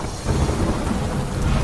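Heavy monsoon rain pours steadily alongside a deep rolling rumble of thunder that swells after a brief start, loud and continuous with no voices.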